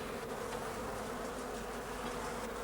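Honey bees hum around a beehive in a continuous, even buzzing swarm, fairly faint and steady throughout with no voices.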